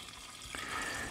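Everclear is poured over lemon peels in a jar, a faint, brief trickle of liquid that starts partway through and runs steadily with no talk.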